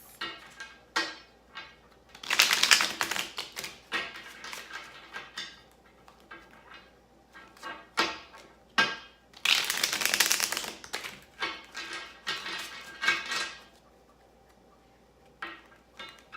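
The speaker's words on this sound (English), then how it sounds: "So I'm gonna shuffle this a couple times." A tarot card deck being shuffled, with two long riffling bursts separated by scattered light card taps and flicks, fairly close and with no talking.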